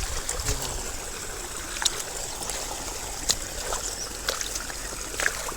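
Water runs from a hand pump in a steady, gurgling trickle, with a few sharper splashes and knocks over the flow and no voices.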